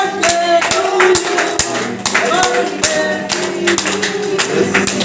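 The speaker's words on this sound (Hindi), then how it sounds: "फोटो सभी के हाथ ताली के साथ" A group claps hands loudly and close by at a birthday celebration for a local leader in Sunpura. The claps are steady and rhythmic over a layer of music and voices.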